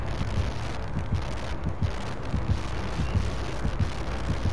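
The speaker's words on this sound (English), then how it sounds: "I hear his heartbeat." The killer's heartbeat in the video game Dead by Daylight thumps as a steady run of low, muffled pulses under a constant wash of ambient game noise.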